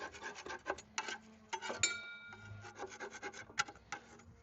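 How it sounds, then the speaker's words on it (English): Scraper rasping debris off the underside of a Webb WEH12R reel mower, a series of short, close scratchy strokes in an irregular rhythm with brief pauses between them. "give it a little bit of scrape of all this crap that's on the bottom"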